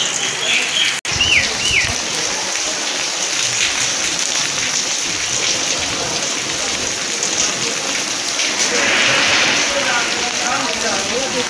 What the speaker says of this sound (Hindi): कल रात से लगातार यहाँ पे बारिश ही हो रही है